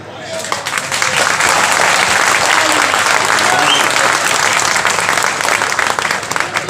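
A crowd at a live comedy show breaks into sustained applause, a dense and loud wash of clapping that holds steady for several seconds with voices mixed in.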